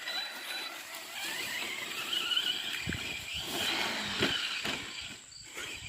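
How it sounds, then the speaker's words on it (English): Arrma Senton 3s BLX brushless RC short-course truck driving, a whining high-pitched motor buzz with rattling, clicking drivetrain and scattered thumps and scrapes, fairly close and continuous. "Very durable RC car."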